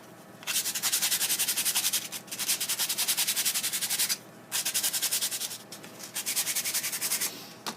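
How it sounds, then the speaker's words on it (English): Hand sanding the inside of a bandsaw-cut wooden scoop with 150-grit sandpaper, loud close back-and-forth rasping strokes in several bursts separated by short pauses. "just go ahead and give it a nice sand on the inside"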